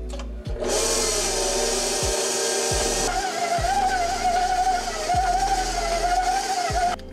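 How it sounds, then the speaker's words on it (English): An electric stand mixer whirring steadily as it beats hot cocoa cookie dough, its motor pitch wavering slightly, with repeated knocking thumps from the beater against the bowl at about one-second intervals. "So now I'm gonna turn my mixer back on"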